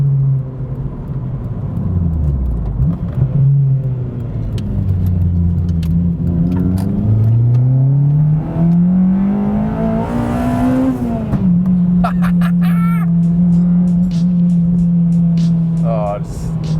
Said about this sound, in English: I hope you can hear that spitting the flame out the back.